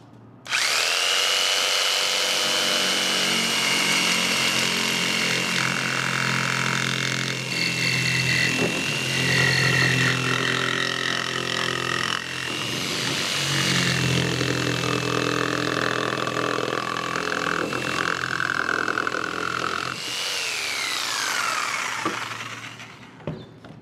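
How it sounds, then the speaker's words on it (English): A jigsaw powered by a Bluetti AC180 portable power station cuts through material nearby, a loud, sustained buzzing whine with small shifts in pitch as the blade works, then it stops near the end. "Let's say you have to cut something with this jigsaw."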